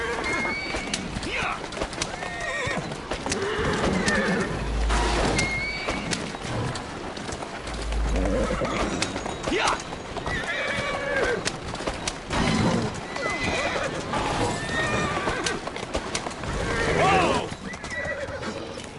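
A horse in the video game Assassin's Creed Syndicate whinnies repeatedly while hooves clip-clop steadily, with birds and pigeons in the background and a voice talking over the scene.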